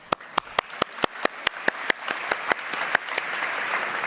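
Audience applause at a plenary opening ceremony, sharp individual claps standing out at first and then merging into a steady, moderately distant wash of clapping from a large hall crowd.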